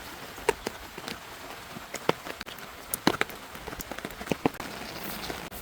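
Rain falling on a garden with marigolds and papaya after a cyclone, scattered drops pattering close by in irregular taps and small splashes over a soft steady hiss, with no talking.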